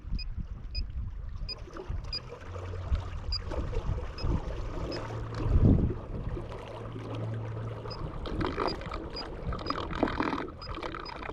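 A boat's trolling motor hums low and steady, heard underwater through churning water, with faint sloshing and periodic ticking pings in the background; no voices.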